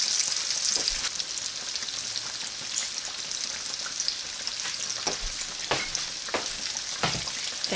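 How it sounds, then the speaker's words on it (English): A spoon stirs a pot of hot boiling milk on the stove before grits go in, giving a steady bubbling hiss with occasional light scrapes and clicks from the spoon. No voices. "I'm going to put a spoon in it and give it a nice stir"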